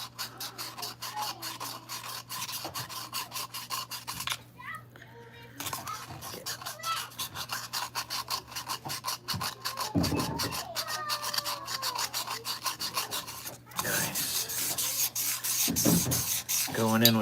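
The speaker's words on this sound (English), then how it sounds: "Going in with my 4 and my 600 grit and just getting all the chamfers smooth." Chamfered edges of a cylindrical piece are smoothed with 600-grit sandpaper, making a steady, close rasping rub in repeated strokes with a few brief pauses.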